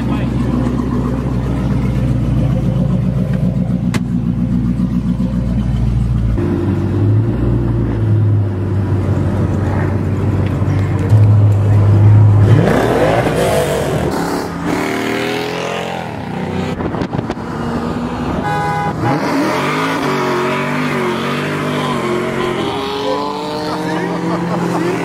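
A 1000 hp Dodge Hellcat accelerates hard with its wheels spinning, its loud engine roaring close by and rising in pitch. People then talk inside the car over the engine and road noise.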